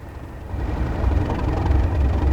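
A Class 37 diesel locomotive in Train Sim World 2 on the Tees Valley Line throttling up, a steady low engine rumble that thickens and grows slightly louder, with no talk over it.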